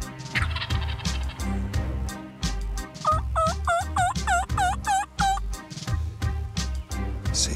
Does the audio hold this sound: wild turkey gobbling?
yes